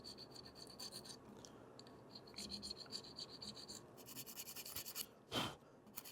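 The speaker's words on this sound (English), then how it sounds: "I'm just gonna come in with some files and sandpaper and do some cleanup work, maybe clean up these fillets a little bit" Files and sandpaper scrape and rub against metal fillets during cleanup. The strokes come as soft repeated rasping at a low level, with one louder scratch near the end.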